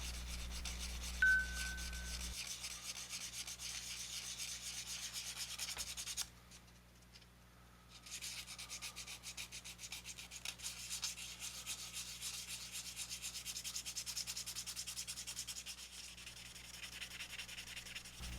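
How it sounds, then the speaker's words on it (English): 400 grit sandpaper rubs back and forth on a diecast VW model in steady, soft strokes, close by, with a brief pause partway through before the scratchy sanding resumes. "I'll start out by using some 400 grit sandpaper here."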